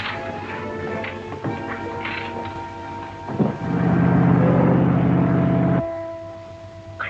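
A boat engine runs with a steady, low droning hum that swells loud and holds for a couple of seconds before cutting off abruptly, set against a dramatic scene with background music and ambience.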